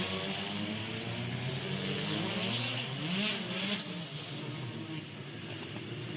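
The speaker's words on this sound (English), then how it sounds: "Cars coming to the grid for the first time in a long while" WTCC touring race cars in Morocco drive to the grid, engines droning and swelling as they pass, a dense roar of several cars with no talk.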